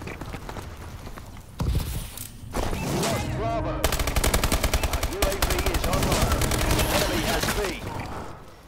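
Rapid bursts of shotgun and automatic gunfire in a first-person shooter video game, loud and close, with dense repeated blasts building into sustained volleys and mechanical clicks, occasional speech faintly underneath.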